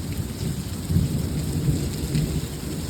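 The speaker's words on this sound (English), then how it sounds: "What are you doing during the rainstorm?" Steady heavy rain hisses down throughout, with low rolling thunder rumbling beneath it. The storm is close, continuous and evenly loud, with no voices.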